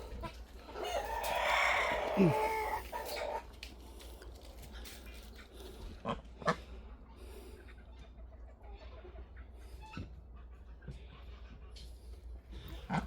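A rooster crows loudly near the start, followed by scattered clucks and clicks from chickens nearby, with a person speaking at times.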